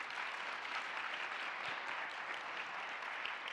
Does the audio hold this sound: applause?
yes